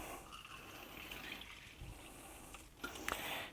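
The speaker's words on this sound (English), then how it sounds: "and then top it off with water." Water pours into a cup of grog to top it off, a soft continuous trickle and splash that brightens with a few sharper drips near the end, close and alone without talk.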